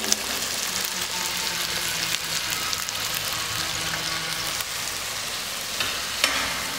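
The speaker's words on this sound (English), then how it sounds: "Now we have to add the chopped onions. Slowly you have to put the chopped onions." Chopped onions frying in a pan for restaurant-style veg fried rice, a steady, close, continuous sizzle with light stirring and no talk throughout.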